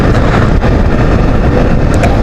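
A Suzuki V-Strom motorcycle is ridden on the road, its engine drone mixed with heavy wind rush, loud and steady with no pauses.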